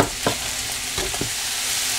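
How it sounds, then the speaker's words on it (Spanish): Onions and bell peppers sautéing in a pan for a chicken breast stir-fry, a steady close sizzle broken by a few brief scraping stirs, no one talking. "Y aquí solo le voy a dar tiempo que se cocine la cebolla, los pimientos"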